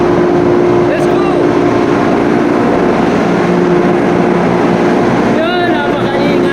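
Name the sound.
ship's emergency fire pump running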